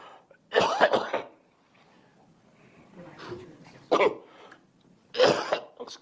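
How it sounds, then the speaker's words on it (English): Several harsh coughs close by during a court hearing, spread out in short bursts with quiet pauses and some muffled throat noise between them. "Excuse me, I'm coughing here."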